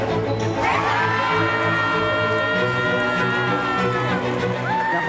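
Gym crowd at a girls' senior night basketball game erupting into loud sustained cheering and screaming, dense and continuous for the whole stretch, with high shrieks riding over a steady roar and faint shouting voices mixed in.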